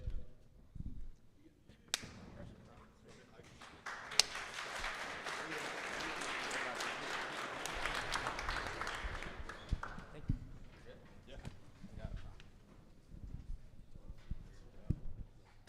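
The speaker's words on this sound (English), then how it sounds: "Let's give one more round of applause for Eddie." Applause from a conference audience at a live business mastermind event, a few seconds of moderate clapping that builds and fades, with talk and scattered noise around it.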